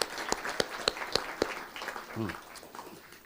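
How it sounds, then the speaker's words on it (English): Audience at a school trust keynote day clapping for special guests, a handful of sparse, distinct claps in an uneven rhythm that fade out as a voice begins speaking. "We'll give them a round of applause."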